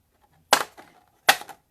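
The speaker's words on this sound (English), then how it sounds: "thump the back to get any extra powder off" Two sharp, separate thumps of a rubber stamp being knocked against a craft table to shake off loose embossing powder, close and clear in a quiet room, with no talking.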